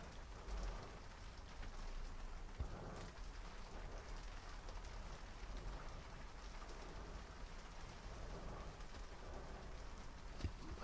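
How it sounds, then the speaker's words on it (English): Rain patters steadily on a studio roof, a soft continuous hiss of drops with faint scattered taps, quiet and even throughout with no talking. "I can hear the rain drops falling down on the top of my studio today."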